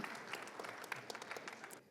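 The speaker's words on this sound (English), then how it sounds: "how about a round of applause for Danica?" Graduation ceremony audience clapping, a brisk crowd of hands with distinct individual claps standing out, steady for a couple of seconds before tapering off at the end.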